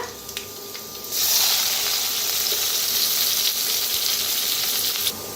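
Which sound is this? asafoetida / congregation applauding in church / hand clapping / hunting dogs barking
asafoetida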